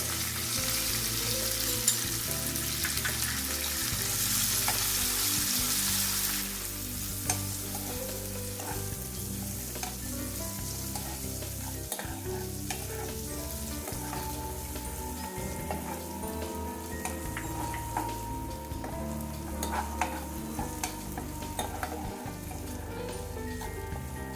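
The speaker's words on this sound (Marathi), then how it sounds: "मनुका भाजून घेते यामध्ये" Raisins roast in a pan for fenugreek dry fruit laddu, giving a loud, steady sizzle with a brighter hiss in the first few seconds, then continuous crackling and stirring scrapes up close.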